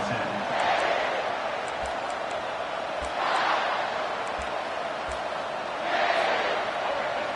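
A football stadium crowd at a South Carolina game roars in a loud, sustained wash, swelling in three waves of cheering, with a commentator talking over the crowd noise.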